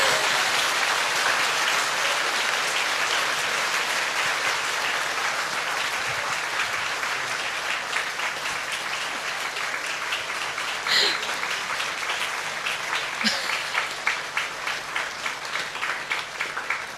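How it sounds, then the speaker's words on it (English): An audience at a Buddhist talk by Ajahn Brahm claps to welcome him to the front, sustained full applause that gradually thins into scattered separate claps near the end, with a few voices mixed in. "actually, you can clap because it makes him feel like a star"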